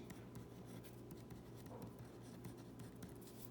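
Pen or pencil scratching out numbers by hand on paper, a steady run of short scratchy strokes at close range with faint background hum, no speech.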